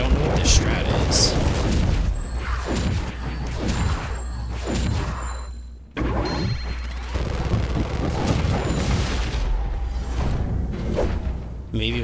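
Explosions boom and whoosh in the video game Helltaker, a string of heavy thudding blasts and crashes in rapid bursts, loud and close, with talking over them.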